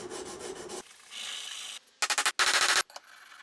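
Rough rasping of sanding a hand plane blade flat, first steady rubbing, then a run of quick, loud back-and-forth strokes, close up, with short pauses between passes.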